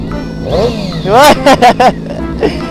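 A Honda CBR motorcycle with a CB400 engine revs hard in several quick, loud bursts, rising and falling sharply, close by, with idle rumble between blips.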